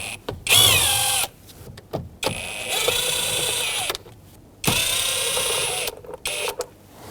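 A 5.5mm socket driver on a 2011-2016 Ford F-350 removes the screws from the lower steering column cover, giving loud whirring bursts of motor noise broken by brief pauses, heard up close.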